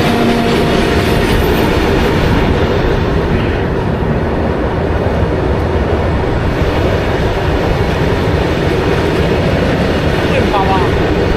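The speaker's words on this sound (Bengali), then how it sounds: "এই যাচ্ছে হচ্ছে মালগাড়ি" A coal-laden freight train hauled by twin WG5 locomotives rolls past close by, a loud, unbroken rumble with rhythmic wheel clatter and occasional squeal sustained throughout.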